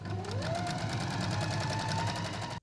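A sewing machine stitching clothing for wounded soldiers runs in a fast, steady mechanical chatter, close and loud, with a faint rising whine from the motor before it stops abruptly.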